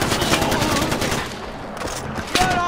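Gunfire in the Far Cry 4 video game, a dense continuous stream of shots and combat noise running the whole length at steady loudness, with a louder burst near the end.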